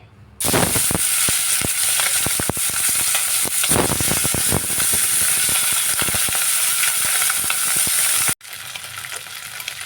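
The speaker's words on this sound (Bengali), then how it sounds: "তেল গরম হয়ে গেছে আমি এর মধ্যে নুন হলুদ মাখিয়ে রাখা শিং মাছগুলি বেজে নিচ্ছি" Salted, turmeric-coated shing fish frying in hot mustard oil, a loud continuous sizzle starting abruptly with crackling pops throughout, dropping off briefly near the end.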